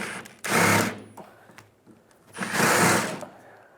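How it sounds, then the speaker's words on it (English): Power tool whirring in two bursts of just under a second each while backing out 12mm sway bar bushing bracket bolts on a 2007-2011 Toyota Camry, close and fairly loud with a quiet gap between. "Using a 12mm socket, remove the bolts out of the sway bar bushing bracket."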